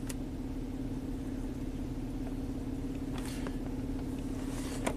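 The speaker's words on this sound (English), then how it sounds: "Our idle is a nice steady, 650 RPM now." Nissan engine idling steadily at about 650 RPM after a throttle body cleaning and idle relearn, a quiet, even low hum with a constant tone, heard alone with a few faint clicks.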